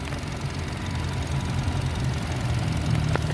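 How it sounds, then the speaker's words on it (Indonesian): A 2010 Nissan Livina X-Gear with a manual gearbox idles steadily at close range. The low engine hum is continuous and even, with a faint ticking over it and a brief sharp click near the end. "Untuk mesinnya seperti ini suaranya teman-teman."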